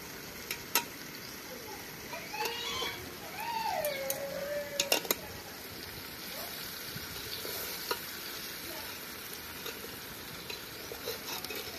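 Fish cooks with ginger garlic paste in a pan, a soft continuous sizzle with occasional sharp clinks of a utensil, while a cat meows briefly in the background.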